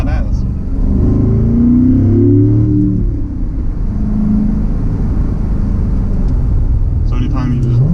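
A 2015 Corvette 3LT engine rev-matches on its own, a loud rising and falling growl heard close from inside the car, with people talking over it.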